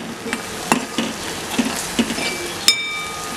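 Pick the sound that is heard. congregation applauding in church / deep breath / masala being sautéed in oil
masala being sautéed in oil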